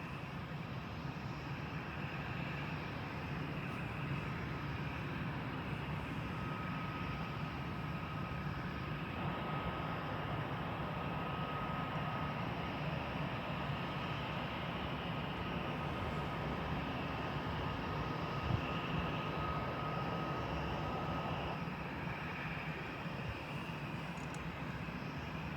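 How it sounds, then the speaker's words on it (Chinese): Airliners landing and taking off at a busy airport during the evening rush hour, with planes queued in the sky; a steady, broad jet roar holds for the whole stretch without a break, and no one speaks. "看现在降落的飞机，这个起飞的飞机"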